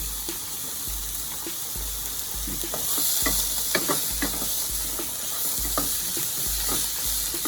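Pasta being stirred in a pot on the stove, with a continuous sizzling hiss and repeated scraping, clacking strokes of the spoon close by, no talking.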